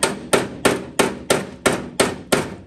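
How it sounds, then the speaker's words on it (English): A hammer planishes sheet metal on a dolly while chopping the roof of a 1950 Mercury, eight sharp, evenly spaced ringing blows close up, each with a short metallic decay, no talking. "I'm using my hammer as a little planishing tool."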